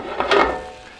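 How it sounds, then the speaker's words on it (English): Pork medallions frying in a pan during a kitchen demonstration, a brief soft sizzle with faint stirring or utensil clatter, close and fading after a moment. "So while this is just frying up"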